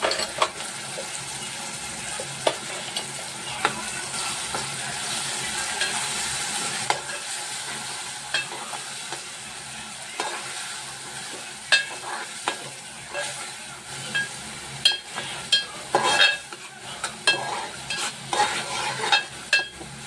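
Yogurt masala roasting in a pan under constant stirring, a long run of sizzling with frequent sharp spatula scrapes and clicks that grow louder and more spiky toward the end, no talking.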